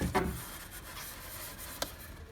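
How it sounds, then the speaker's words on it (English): A brief scrape and rub as a pre-cut MDF shelf support slides into a cardboard shelf display, followed by a single sharp tap as it seats, close and fairly quiet. "The next step is to insert the pre-cut MDF shelf support, which goes at the front bottom of the shelf unit."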